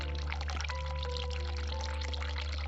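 Water pours steadily from a game sink tap, an even close rushing stream holding at a constant level from start to finish, with no voices.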